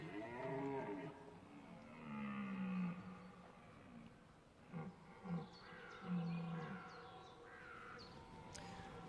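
Rival stags in the rut bellow with deep, drawn-out roars, repeated several times at a distance, faint against a quiet outdoor background.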